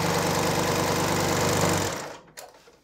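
A sewing machine stitches steadily through fabric for about two seconds, loud and continuous, then stops abruptly and leaves only faint handling noises.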